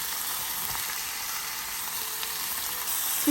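A rib of beef sears in a hot pan with a steady, close broadband sizzle and crackle that holds evenly throughout, rising slightly near the end, with no talking.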